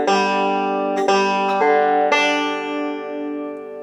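Banjo picked in a Scruggs-style roll pattern: a short measure of bright plucked notes with a few crisp attacks about half a second apart, ringing on and slowly fading, played alone.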